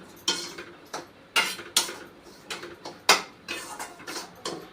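Rava semolina roasting in ghee in a pan, stirred with a spoon that scrapes and taps against the metal in irregular rhythmic strokes, close and fairly quiet, with no voices.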